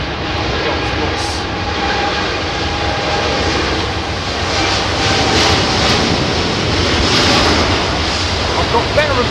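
A Rolls-Royce-powered Boeing 787-8 Dreamliner roars loudly and steadily at windy London Heathrow, its jet engine noise broad and sustained with wind buffeting throughout.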